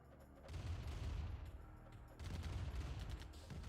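Gunfire and explosions in Command & Conquer Remastered, an Apache helicopter firing on grenadiers amid tank and buggy combat: a dense, continuous rumble of shots and blasts at moderate level, with no talking.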